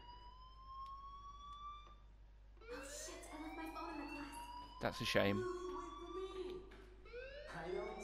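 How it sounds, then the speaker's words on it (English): A school fire alarm in the video game Life is Strange wails with rising, sweeping siren tones behind game music, while voices talk over it. "do you hear that fire alarm? That means you should be outside."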